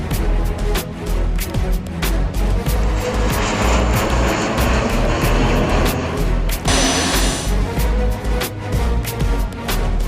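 A private jet departing from a private hangar roars continuously and loudly at close range, its engine noise steady with a brighter surge partway through.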